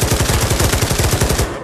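A machine gun in the Pavlov VR video game fires one rapid, loud, continuous burst of evenly spaced shots, up close, cutting off sharply after about a second and a half.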